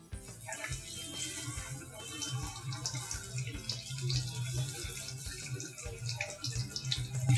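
Aloo pakoras being double-fried in hot oil give a steady, dense sizzle and bubbling that fills the scene and builds slightly louder toward the end, with no talking.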